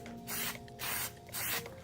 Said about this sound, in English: So once again, spray a little test to get all the,